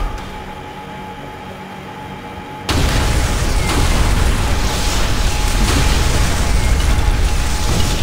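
Demolition charges go off in Call of Duty: World at War. A quiet hum gives way abruptly to a sustained, loud roaring blast and rumble that continues to the end, with no voices.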